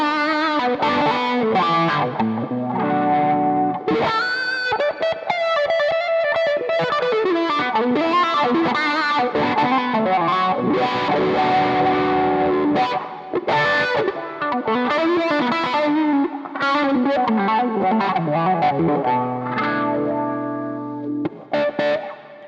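An electric guitar driven with heavy gain and distortion plays through a DIY wah pedal fitted with a custom 540 mH inductor, giving a continuous, loud, sweeping filtered tone across a long run of chords and notes with no talking.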